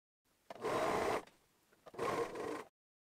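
A sewing machine stitches the sleeve seams of a hoodie in two close, steady runs of motor whir, each a bit under a second long, separated by a brief quiet gap.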